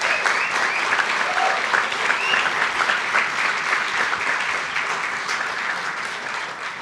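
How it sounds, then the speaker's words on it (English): A conference audience at an agricultural tech hackathon applauds the organizers, steady dense clapping sustained at full volume throughout with no speech over it. "just maybe a round of applause for the conference organizers"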